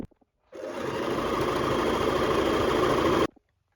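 A sewing machine runs a straight seam along the folded edge of fabric for a cottagecore dress, a loud, steady whirring hum close by for about three seconds that starts and stops abruptly.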